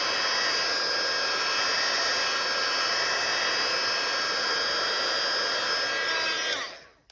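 Heat dryer blowing air to dry a journal page, a loud steady whooshing roar held close for several seconds before cutting off abruptly near the end.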